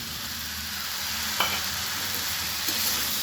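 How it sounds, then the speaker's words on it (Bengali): Masala with tomato paste fried and stirred in a pan, a steady close sizzle with a couple of brief spoon scrapes rising above it, no voices. "দিয়ে আমি এভাবে মশলাটা ভালোভাবে কষিয়ে নেব।"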